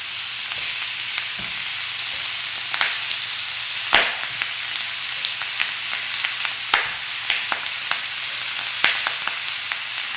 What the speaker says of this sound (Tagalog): Isi-sear lang natin ito hanggang sa mag-brown na yung liyempo